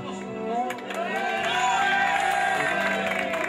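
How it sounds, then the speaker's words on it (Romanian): Cheering, shouting and whoops from a crowd of family and friends at a Romanian baptism celebration, a continuous loud swell of festive voices rising after a quieter start. "Și aplauze pentru unchiul nostru."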